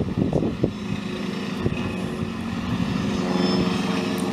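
A David Brown 1412 tractor running a hedge cutter along a bank, with a steady loud engine drone and rumbling mechanical noise.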